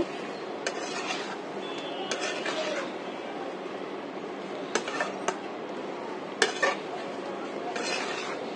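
Raw mango pickle is stirred with chili powder in a pan, with a spoon scraping and clinking against metal under a steady background hiss and a few sharper knocks.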